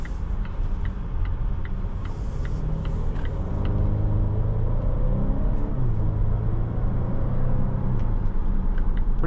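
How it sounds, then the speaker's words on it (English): Engine of a 2025 Volvo V90 Cross Country B6 mild hybrid wagon accelerating, heard from inside as a steady low rumble with a rising engine drone and road noise, loud and continuous with no talking. "Pretty nice acceleration."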